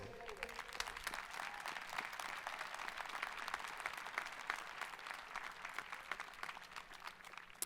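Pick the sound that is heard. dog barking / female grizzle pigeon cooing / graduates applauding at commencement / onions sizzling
graduates applauding at commencement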